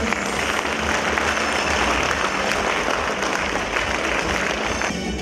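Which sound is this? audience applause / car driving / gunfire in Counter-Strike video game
audience applause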